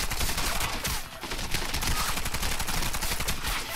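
Tavor TAR-21 assault rifle in the Warface shooter game fires one long unbroken automatic burst, loud and close, with rapid rhythmic shots overlapping into a dense rattle for several seconds.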